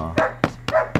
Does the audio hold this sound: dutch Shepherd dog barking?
yes